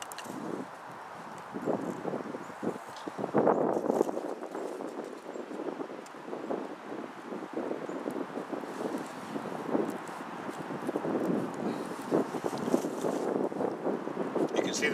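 A steady 10 to 20 mph wind buffets the microphone outdoors beside a brick rocket stove, making continuous rough gusting noise throughout.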